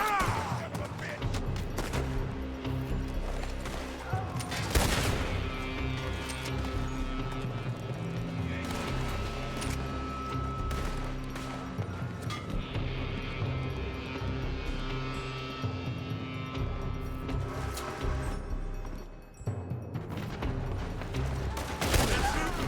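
Gunfire in the video game Red Dead Redemption 2, dense and continuous volleys of shots over a busy game soundscape, with voices speaking at times.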